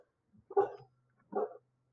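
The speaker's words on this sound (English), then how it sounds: "That was my dog." A pet dog gives two short barks indoors, fairly close but moderate in level, separated by a brief pause, with a low hum in the background.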